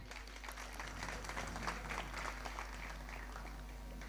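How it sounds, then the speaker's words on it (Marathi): Faint, distant applause from an audience at a public lecture, a continuous patter of many hands clapping over a low steady hum. "तुम्ही सर्वांसाठी एक वेळेस प्रेमानं जोरानं स्वतःसाठी सर्वांनी टाळ्या वाजायचे"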